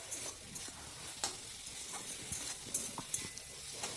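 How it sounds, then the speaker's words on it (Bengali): A spice masala for a small-fish curry is stir-fried in a pan: faint, soft sizzling under intermittent spoon scrapes and clinks, quiet and close, with no talking. "এবার আমি মশলাটাকে ভালো করে কিন্তু কষিয়ে নেব।"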